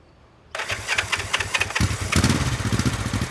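A 1975 Honda CB450K7 motorcycle engine fires up after a short quiet moment and runs with a steady, loud, close-up throbbing pulse that grows heavier partway through, no voices present.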